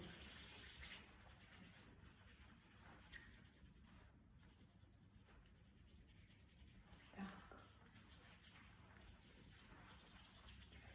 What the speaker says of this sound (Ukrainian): І змиваємо е, миючий засіб наших рук під проточною водою.